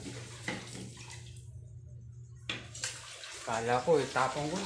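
A tap runs in short bursts while dishes are washed at a home sink, the flow stopping and restarting, with people talking over it near the end.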